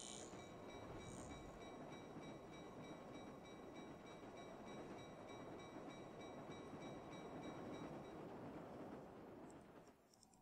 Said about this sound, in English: I'll just wait for this train to go past.